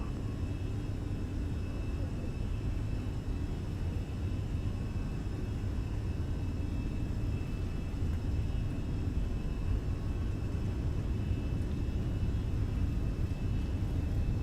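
Airbus A320 engines spooling at takeoff thrust on runway 36 at Quito in Microsoft Flight Simulator, a steady loud low roar with broadband rumble holding constant throughout, no voices heard.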